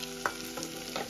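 Cabbage roasts in a pan over a low gas flame, giving a soft, close sizzle broken by a few quick scraping stirs, with no voices.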